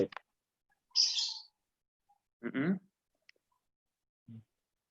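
Short bird chirps and calls, a few separate bursts with silence between them, heard during an online session.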